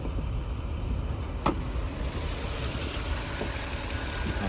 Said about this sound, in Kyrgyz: Капоттун астында мотордо сонун жүрүп турат